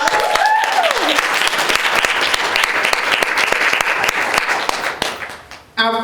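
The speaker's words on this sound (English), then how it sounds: "Let's give her a round of applause." A conference audience applauds as a woman is introduced on stage, dense sustained clapping from a large crowd filling the hall, tapering off near the end.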